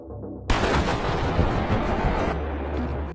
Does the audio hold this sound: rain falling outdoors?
no